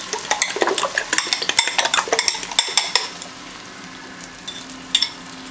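Asparagus and garlic fry in a pan with a crackling sizzle, stirred with utensils that clink and scrape against the pan in quick bursts before the sizzle settles to a quieter hiss.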